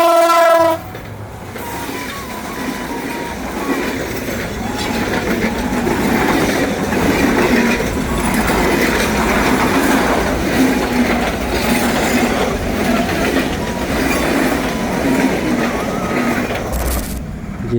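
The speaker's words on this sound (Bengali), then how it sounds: "তো আপনারা দেখতে পাচ্ছেন ট্রেন আসছে।" At a railway crossing, a passing train opens with a short horn blast, then a long, loud roar with clickety-clack wheel noise and occasional squeals, heard from close by for the whole stretch.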